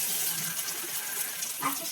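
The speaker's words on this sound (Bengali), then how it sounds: "এবার এখানে পানি দিয়ে দিব" Water poured into a pan of hilsa fish do-pyaza curry while cooking, a steady close pouring and splashing sound lasting the whole moment, with no voices.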